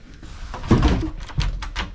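Double doors into a quiet hotel room at the Rannoch Half Marathon are pushed open and shut, giving a heavy thunk with latch clatter and a second knock, close and fairly loud, with no talking.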